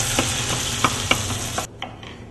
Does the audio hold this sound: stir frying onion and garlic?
yes